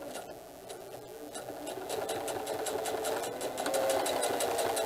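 A sewing machine back tacks over elastic on a diaper bag tote, a close, steady, fast mechanical whir that grows slightly louder toward the end.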